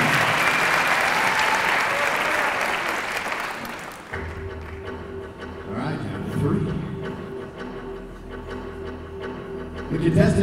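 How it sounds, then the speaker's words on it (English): An audience at a teen vocalist competition claps for a contestant, a full, steady round of applause for about four seconds that cuts off abruptly, followed by quieter room sound and faint voices. "Give it a clap."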